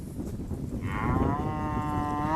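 Cattle moo loudly and close by during livestock sorting at a gate, with one long drawn-out low call rising over a busy background of shuffling and movement.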